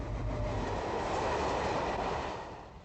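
A Class 60 diesel locomotive hauls a heavy freight train on British rails, a loud, steady rumble of engine and wagons rolling past close by that fades slightly toward the end.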